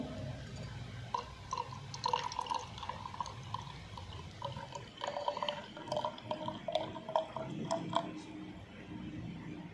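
Water trickles and splashes softly into a flask in uneven spurts, with faint voices murmuring in the background.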